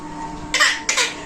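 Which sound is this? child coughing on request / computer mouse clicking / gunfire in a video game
child coughing on request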